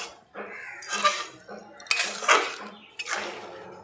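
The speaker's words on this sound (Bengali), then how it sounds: "আবার একটু ঝোলগুলো আবার নেড়ে চেড়ে দিচ্ছি" A spoon scrapes and clinks against a pan while stirring curry gravy, several short bursts of metallic scraping at a close distance.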